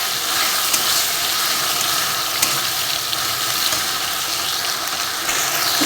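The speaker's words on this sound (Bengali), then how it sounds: "এবার এটাকে ভালোভাবে কষাবো।" Fish head curry masala with salt and turmeric is sautéed in a pan, giving a loud continuous sizzling hiss with a faint scrape now and then, close up with no talking.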